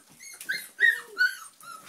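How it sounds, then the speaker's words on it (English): German Pinscher puppies whimper and squeak in a playroom at night, a series of high, close, soft cries rising and falling in short bursts with brief pauses between them. "Squeaky puppies tonight."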